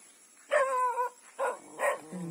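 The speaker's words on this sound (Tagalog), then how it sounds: "Ang aso namin." A family's pet dog at a house barks three times, with a drawn-out first bark followed by two short, separate barks, moderately close and loud, alone with no talking.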